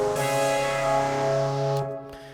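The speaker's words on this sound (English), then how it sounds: "this alchemy track is a punchy 80s synth." A punchy 80s-style synth patch from Logic Pro's Alchemy, layered with synth chords, holds a bright, sustained harmonic chord for about two seconds before cutting off, loud and alone.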